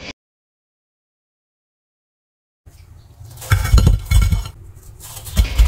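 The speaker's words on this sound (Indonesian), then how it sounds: "ini tetap kita goreng menggunakan api sedang cenderung besar" Breadcrumb-coated snacks fry in a pan over medium-high heat. The clip opens on silence, then a close, busy sizzle builds with clinks and scraping from stirring in the pan, and there is no talking.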